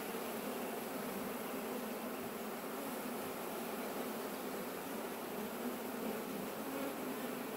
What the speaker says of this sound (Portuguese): O negócio é você ver a maioria das abelhas entrando